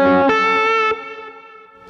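Guitar played through a Milkman Sounds Amp Stereo pedal set to wide stereo: one strummed chord rings out with a rich, sustained harmonic wash, a second strum follows, then decays over about two seconds, loud and alone.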